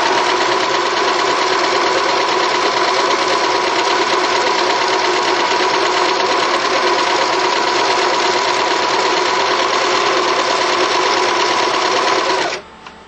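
A sewing machine runs steadily at speed, stitching fabric with the edge guided along the presser foot; a loud, close, unbroken whirring drone lasts about twelve seconds, then stops abruptly.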